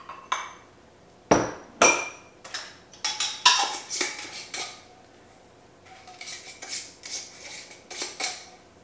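Glass mason jar of apple cider vinaigrette dressing shaken by hand, giving a run of sharp clinks and knocking rattles in uneven bursts, loud and close with no talking.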